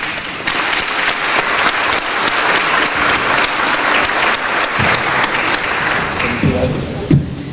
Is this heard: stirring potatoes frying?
no